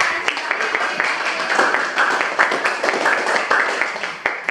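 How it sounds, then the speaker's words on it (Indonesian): Classroom students clap for a group that has just presented, a brisk scatter of hand claps rising and falling, with voices mixed in among the clapping. "berikan tepuk tangan untuk kita semua ya"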